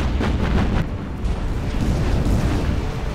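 Torpedo hits explode in the naval combat game Battlestations: Pacific, a loud, continuous, rumbling blast with a sharp burst near the start, heard alone.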